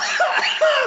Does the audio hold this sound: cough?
yes